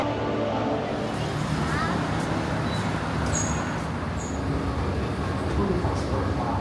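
Steady loud rumble and rushing noise inside a moving Bangkok metro train, with occasional faint squeals and murmuring voices beneath the din.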